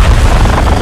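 A missile launches in the Modern Warfare 2 campaign mission Strike with a loud, continuous roaring boom that fills the short moment at close range.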